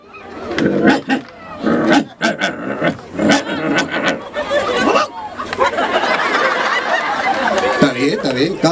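People imitate dogs with their voices, a string of growls, barks and yelps in varied styles, loud and close, mixed with laughter and chatter from a live comedy audience.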